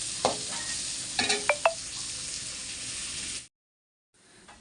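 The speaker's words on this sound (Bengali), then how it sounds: "আর এখানে হচ্ছে পুঁটি ভাজা।" Puti fish frying in a pan, a steady close sizzle for about three and a half seconds with a few sharp clinks of a utensil, then abrupt silence before a faint sizzle returns.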